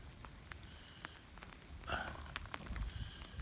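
Steady cold rain patters on surfaces around a cattle barn on a windy evening, a soft continuous hiss with scattered drops, fairly distant and even.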